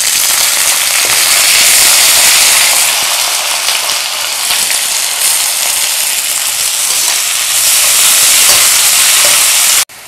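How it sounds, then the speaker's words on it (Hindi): Sliced onions fry hard in a pan, a loud, dense, unbroken sizzle with crackling spits running throughout, close up with no talk. "इसको फ्राई कर लेते हैं।"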